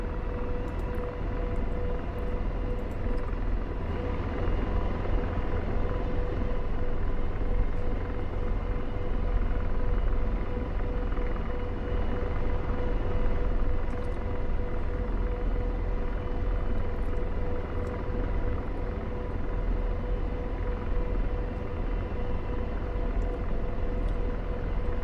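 Helicopter rotor in the DCS flight simulator winding down, a steady loud rumbling drone with a sustained whine running evenly throughout, no voices over it.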